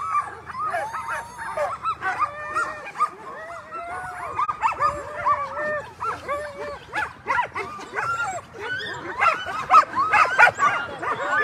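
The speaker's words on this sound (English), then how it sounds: "There it is, a full sled team." A full sled team of Alaskan huskies at a mid-distance race in Willow, Alaska, barks, yips, whines and howls excitedly in an overlapping, continuous chorus, loud and close.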